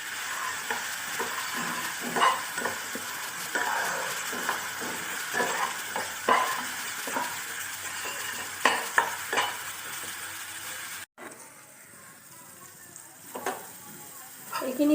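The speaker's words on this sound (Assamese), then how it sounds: "এতিয়া মই ইয়াতে আদা নহৰু আৰু জলকীয়াৰ পেষ্টটো মিহলাই দিম" Browned onions with ginger, garlic and green chili paste stirred and fried in a pan for jackfruit curry, a steady sizzle broken by repeated scraping spoon strokes, close and clear, with no talk.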